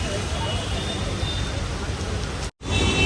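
Steady rain pours near a train during a morning journey, a dense continuous hiss that stays loud throughout with a brief dropout near the end. Faint voices may sit under it.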